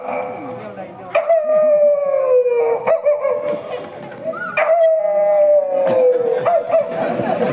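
A voice imitates a dog howling, drawn-out wavering howls repeated several times, loud and close.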